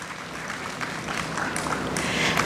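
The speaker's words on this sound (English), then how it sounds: "A big round of applause to our talented performers" A hall full of people applauds the performers at a national conference inauguration ceremony, a continuous, fairly loud burst of clapping that swells slightly over two and a half seconds.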